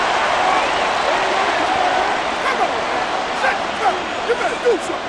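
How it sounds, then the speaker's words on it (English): Simulated stadium crowd in Madden NFL 24 during an Eagles–Cowboys game, a steady loud roar with rising jeers and whistles after a penalty flag, continuous and enveloping with no clear break. "Well, the crowd doesn't like that."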